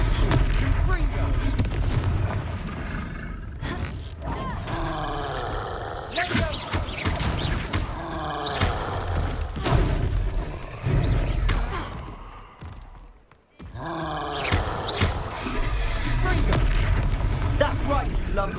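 Repeated Confringo fire-spell blasts in the Hogwarts Legacy video game, a series of booming explosive bursts during combat, with pauses between hits and voices speaking at times.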